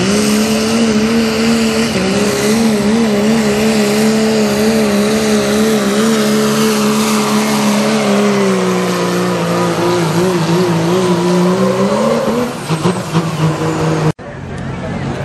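A 6.7 liter Cummins diesel farm truck with a 2.6 turbo roars steadily at a tractor pull. The loud, sustained engine drone rises slightly in pitch before cutting off abruptly near the end.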